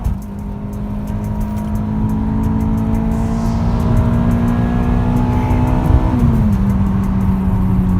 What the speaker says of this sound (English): Oh, she's a beast. She revs, doesn't she?